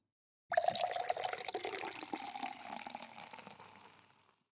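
A sugary drink is poured into a container, a close, continuous splashing and trickling of liquid that starts abruptly and gradually thins out over a few seconds.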